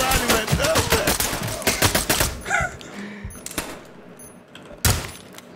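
Gunfire in the tactical shooter game Ready or Not: a dense, loud stretch of rapid shots and impacts for over two seconds, then a few scattered single shots, one sharp and strong near the end.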